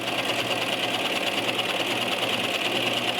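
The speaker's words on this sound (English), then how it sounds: "I will show you how it not only stitches the hem, but also has the looper on the back" A sewing machine with a looper runs steadily while stitching a skirt hem and finishing the raw fabric edge, a continuous, even mechanical whir that stays loud and unbroken throughout.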